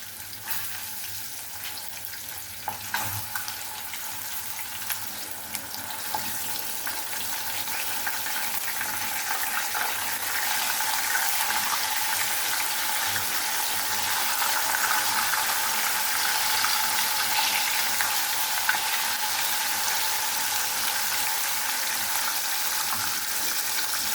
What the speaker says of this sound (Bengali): হলুদ লবণটা মেখে তেলে ভেজে নিচ্ছি